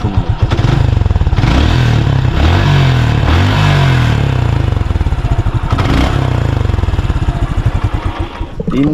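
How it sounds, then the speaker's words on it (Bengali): Revving close by and loud, the Suzuki Gixxer Monotone motorcycle, three years old with 33,000 km on it, rises and falls through several throttle blips over a steady chugging idle. "বাইকের সাউন্ডটা শোনাই, সাউন্ডটা কেমন আছে সেটা শোনাইলে ভালো হবে"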